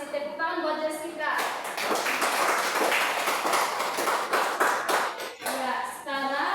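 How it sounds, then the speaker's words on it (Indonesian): A class of children claps together for a classmate, a dense burst of hand claps running about four seconds between stretches of nearby talk at the start and end. "Tepuk tangan buat Jessica"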